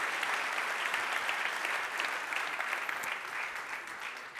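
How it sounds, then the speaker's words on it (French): Sustained applause from a large audience at a Citeo innovation event, the Circular Challenge, honoring the Citeo innovation team; dense, steady clapping fills the whole stretch at an even level with no speech over it. "On les applaudit, s'il vous plaît, toute l'équipe Inno."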